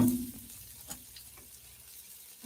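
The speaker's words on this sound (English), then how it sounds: "Let's add our onions." Onions hiss and sizzle in a hot pan with hamburger steak cooking, a steady frying crackle that fades slightly, with a couple of faint scrapes.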